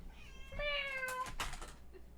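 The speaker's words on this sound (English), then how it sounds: "My cat is meowing in the back." A house cat gives a single drawn-out meow nearby, clear and moderately loud, followed by a short softer sound, with no talk.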